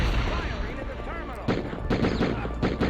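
Video game gunfire from Die Hard Trilogy, a burst of rapid sharp shots in the second half following a tonal game sound, loud and close with a voice talking over part of it.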